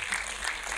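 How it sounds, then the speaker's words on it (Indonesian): Audience applause at an Indonesian film event, a dense, steady burst of clapping filling a short moment, loud and close. "Boleh minta tepuk tangannya dulu untuk Pak Rukman Rosadi."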